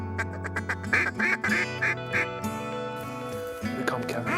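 Ducks quack repeatedly and loudly in bursts during a prairie waterfowl hunt in Canada, with rough wet outdoor ambience and no talk.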